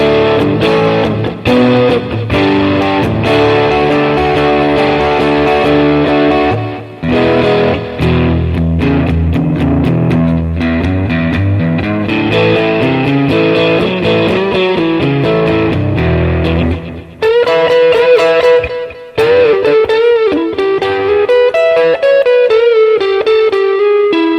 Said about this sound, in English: this is my favorite lead tone on a Strat neck with distortion